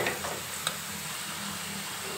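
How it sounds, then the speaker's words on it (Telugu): Bottle gourd sarvapindi roasts in oil in a pan and is turned so it browns all round. A steady, fairly quiet sizzle runs throughout, with one brief scrape or tap of the turning. "చుట్టూ రోస్ట్ అయ్యేలా టర్న్ చేసుకోవాలి"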